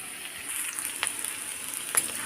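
Marinated chicken pieces fry in a pan for chicken pulao, giving a steady close sizzle with two brief stirring scrapes and no talking.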